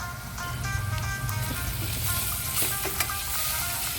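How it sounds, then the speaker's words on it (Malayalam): Green chillies and garlic sautéing for mutton kurma, giving a continuous close sizzle with occasional stirring scrapes and no speech. "ഇനി പച്ചമുളക് വെളുത്തുള്ളി എല്ലാത്തിൻ്റെയും പച്ചമണമൊക്കെ മാറ്റി ഒന്ന് നന്നായിട്ട് വഴറ്റി എടുത്തിട്ടുണ്ട്"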